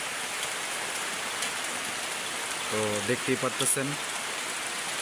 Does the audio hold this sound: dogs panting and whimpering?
no